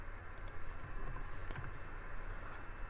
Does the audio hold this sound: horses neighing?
no